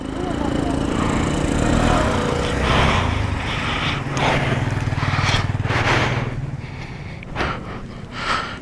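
A Vespa scooter engine runs with a steady, buzzing hum during an uphill ride, with voices talking close over it.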